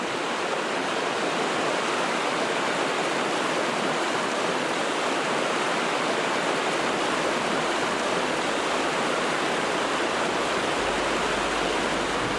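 Steady, loud roar of river rapids rushing beneath a fell stream's whitewater in Finnmark, Norway, a broad continuous wash of water noise with no pauses, heard up close and alone.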